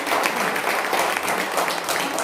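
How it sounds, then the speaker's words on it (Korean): An audience claps steadily in a dense, even wash of applause that lasts the whole stretch. "여기서 박수 한번 쳐셔야 되는 거 같아요"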